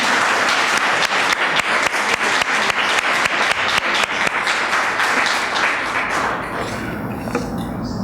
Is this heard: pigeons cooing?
no